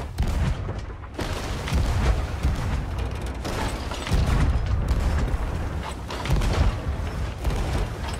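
Heavy booming ship cannon fire rolls on continuously in the video game Sea of Thieves, a galleon and brigantine battle, dense overlapping blasts with rumbling low end, loud and close throughout with no pauses.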